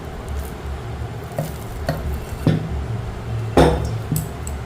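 Semolina and curd mixture being beaten in a bowl for idli batter: scraping and clinking of a utensil against the bowl in irregular strokes, close and moderately loud, with no talking.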